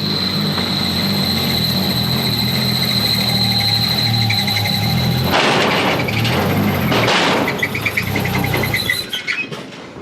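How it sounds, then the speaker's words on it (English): An engine in a car with a dead clutch slave cylinder idles steadily, then catches as it is started in gear, surging and rumbling as the car rolls forward before dying away to quiet near the end. "So he's gonna start it and then just roll it on and stop."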